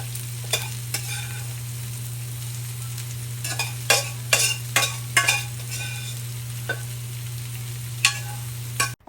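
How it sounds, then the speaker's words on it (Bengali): Radish greens fry in a pan after lightly browned onion and garlic, a steady close sizzle broken by repeated scraping stirs of a spatula, with no one talking. "এখন শাকটাকে আমি আরও দশ মিনিটের জন্য ভেজে নিব"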